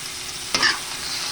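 Pork and sweet potato chunks scraped once in a hot frying pan, a single short stir over a steady background sizzle, close and fairly quiet, with no talking.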